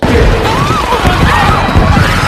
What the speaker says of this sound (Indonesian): terjadi ledakan kecil yang memicu kebakaran dari speaker yang dipasang oleh Melander kemarin